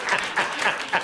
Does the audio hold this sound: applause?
yes